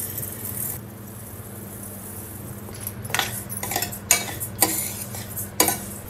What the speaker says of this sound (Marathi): आता कढई तापून घेतलंय आता आपण घालूया तांदूळ